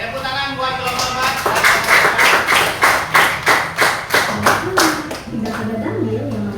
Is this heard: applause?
yes